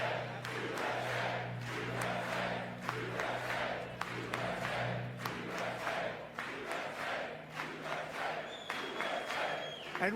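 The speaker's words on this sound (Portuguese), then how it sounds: "Gritos se misturam, há algumas vaias e os republicanos se levantam e dizem USA" A congressional crowd roars with mixed shouts, scattered boos and rhythmic chants of "USA", a loud, pulsing wave of many voices echoing through a large chamber for several seconds.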